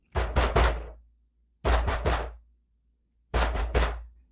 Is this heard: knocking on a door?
yes